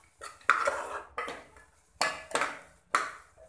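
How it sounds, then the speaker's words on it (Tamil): A spoon stirs kichadi masala with turmeric, chili powder and garam masala in a metal pot, giving a few scraping, clinking strokes in uneven bursts, fairly close and moderately loud, with no talking. "நல்லா கிண்டி விட்டுறலாம்."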